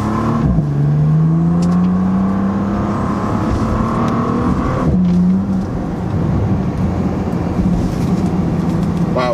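Bentley GT in sport mode pulling away, its engine a steady rising drone that dips at a gear change and climbs again, heard from inside the car with no talk.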